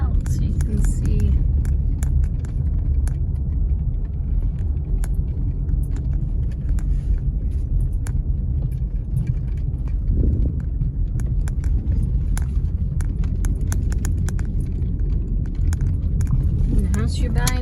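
A car drives along a road with a continuous close rumble of engine and tires throughout, while a person talks over the steady noise.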